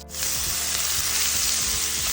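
Crushed ginger, garlic, green chili and fennel hit hot oil and ghee for a Kerala-style egg masala, bursting into a loud, steady sizzle right after a brief quiet start, with faint stirring scrapes underneath.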